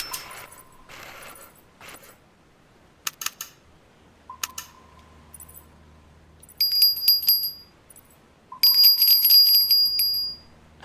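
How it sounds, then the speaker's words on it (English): Bite alarm bell on a saltwater fishing rod in the Fishing Planet video game, bright high rings in short bursts, then two longer sustained jingling stretches near the end, loud and close, with soft clicks between and no talking. "That bell sounds different."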